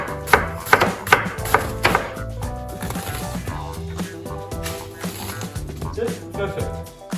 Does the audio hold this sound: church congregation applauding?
no